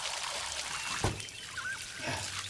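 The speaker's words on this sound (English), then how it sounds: "Put some water on there." Water is poured onto an offering laid on wood, a short soft trickle and splash heard faintly in a quiet setting.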